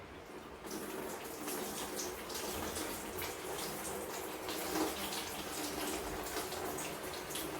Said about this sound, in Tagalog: buhusan ko ng malinis na tubig